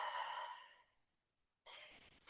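A long, soft audible exhale during a yoga stretch is followed by a short pause and then a second breath, close and clear in a quiet room.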